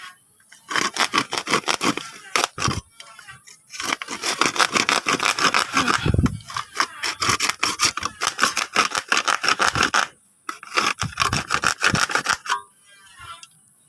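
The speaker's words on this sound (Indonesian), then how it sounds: "Untuk pot ini bahannya memang sangat mudah sekali jika digergaji." A plastic plant pot is sawn open around its base by hand, the saw giving quick rhythmic rasping strokes in close, loud bursts, with a few short pauses between runs.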